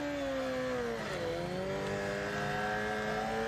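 A racing motorcycle does a burnout after the Suzuka 8 Hours endurance race finish, its engine holding a loud, sustained high whine that dips briefly and climbs again over steady track ambience.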